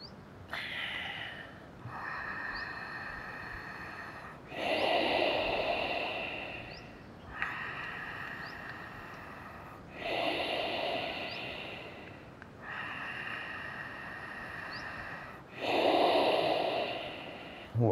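Slow, smooth nasal breathing during a guided yoga balance pose, five long breath cycles with each inhale and exhale audible and close, alone in a quiet room.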